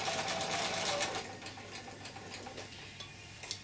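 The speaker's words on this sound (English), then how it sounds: "I'm going to stitch around the entire mask." Close, rapid ticking whir of a sewing machine running around the edge of a fabric face mask. It is steady at first, then eases to a quieter, slower stitching for the rest.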